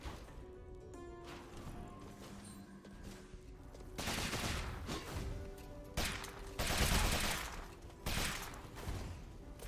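Rapid gunfire from a gun in the video game Rogue Legacy 2, dense crackling bursts of shots repeating in loud waves amid busy game sounds and music.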